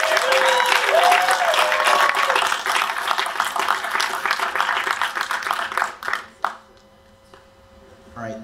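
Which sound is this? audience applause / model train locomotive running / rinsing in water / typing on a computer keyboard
audience applause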